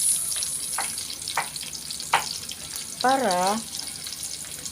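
Onions frying in a pan with fish, a steady sizzle running throughout with a few short sharp spikes and a brief stretch of voice over it.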